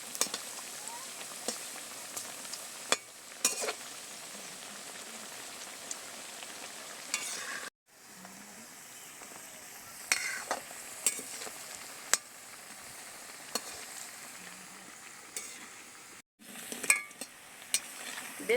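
Lentil fritters (dal bora) deep-frying in hot oil, a steady crackling sizzle broken by occasional ladle clinks and brief pauses, close and moderately loud.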